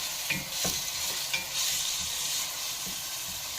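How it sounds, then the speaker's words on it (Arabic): Chopped onion sizzles softly in ghee and oil in a cooking pot, with a spoon scraping and stirring in several quick, close strokes over the steady frying hiss. "نقلب البصله بتاعتنا كده ياخد تشويحه"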